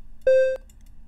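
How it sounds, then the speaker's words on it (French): A single short, buzzy square-wave synth note with a hollow, clarinet-like reedy tone, held briefly then cut off, followed by a faint click. "les ondes carrées, moi je trouve que ça sonne comme des clarinettes"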